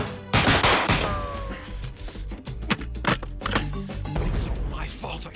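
Rapid bursts of gunfire from a shootout crack loudly and repeatedly through a chaotic scene, sharp impacts stacked over rumbling action noise and shouted voices.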